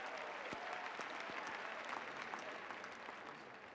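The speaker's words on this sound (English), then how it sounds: "The crowd is buzzing with anticipation." Steady crowd applause and cheering in the Kinect Sports golf video game, a dense, even wash of clapping that holds at a constant level throughout with no talking.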